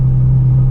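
A Ferrari F12 rolls along with a loud, deep, steady engine rumble heard close inside the car during a short burst.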